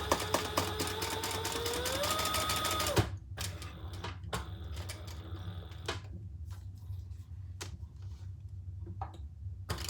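Sewing machine stitching a crossbody bag in white thread, a loud, steady whirring motor for about three seconds that cuts off, followed by quiet mechanical clicks and ticks.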